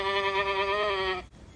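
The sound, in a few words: male goat (buck) bleating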